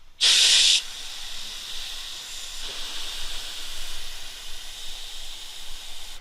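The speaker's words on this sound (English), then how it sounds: "I'm gonna plastic weld it in" A handheld plastic welder working on plastic, opening with a loud burst of hiss, then a steady airy hiss running close and continuous to the end.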